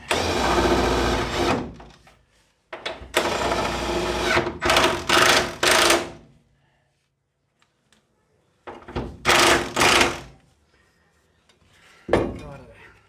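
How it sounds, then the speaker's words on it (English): A big rattle gun, an air impact wrench, runs on the front suspension of a WRX rally car in a shed, firing in several loud, broadband bursts of about one to three seconds with quiet gaps between them. "using particularly something as brutal as a big rattle gun like this"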